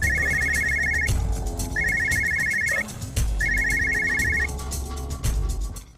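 A mobile phone ringtone sounds in three repeating bursts, each about a second long with short gaps, loud over background music and ambient noise.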